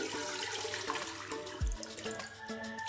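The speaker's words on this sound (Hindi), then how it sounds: "इसके ऊपर हमने ये देखें पैन रखा है और इसमें हम पानी शामिल करेंगे।" Two glasses of water pour into a pan set on a lit stove, a continuous splashing rush that is close and fairly loud, ending in a brief low gurgle.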